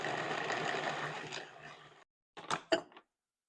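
Vegan chocolate mousse mixture whirring in a food processor, a steady motor drone for about two seconds that cuts off, followed by a few short bursts of pulsing close by.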